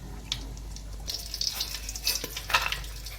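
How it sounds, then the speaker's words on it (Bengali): Whole cardamom, cinnamon, cloves and bay leaves crackle in hot oil as tempering for Basanti pulao, a soft steady sizzle with a few sharper spits and pops building toward the end. "গোটা এলাচ, ছোট এলাচ নিচে কটা, দারচিনি, লবঙ্গ আমি ফোড়নে দিয়ে দিচ্ছি"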